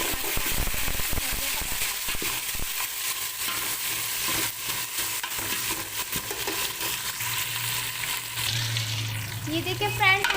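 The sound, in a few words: garam masala frying in a pot for chana pulao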